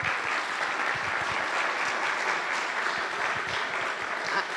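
An audience applauds Anita Walker at a talk on developing a cultural district in Massachusetts, with dense, steady clapping from a sizeable crowd that holds at an even level throughout.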